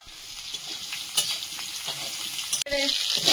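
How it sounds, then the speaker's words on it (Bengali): Potatoes fry in a pan with ground cumin over a wood-fired clay stove, giving a close, continuous sizzle with brief stirring scrapes and a sharp burst of louder hissing near the end. "আলুটা একটু ভাজা ভাজা হয়েছে, এবার দিয়ে দিচ্ছি জিরে গুঁড়ো।"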